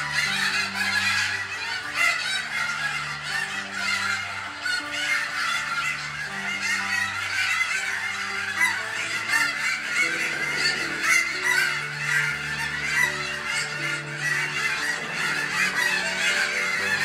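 Geese honk loudly and continuously in a dense, overlapping chorus, with no talking.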